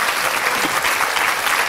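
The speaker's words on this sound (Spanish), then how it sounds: "Un gran aplauso para usted." Studio audience on a TV talk show applauding a guest invited onstage, a short burst of dense, loud clapping with no pause.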